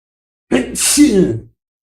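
A single sneeze, sharp and close, with a quick intake and a bright burst of breath, lasting about a second.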